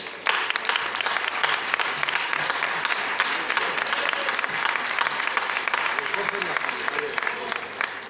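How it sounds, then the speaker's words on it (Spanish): Applause from an audience at a town festival proclamation event in Barruecopardo, steady dense clapping that runs the full length at moderate loudness, with faint voices underneath. "Un aplauso."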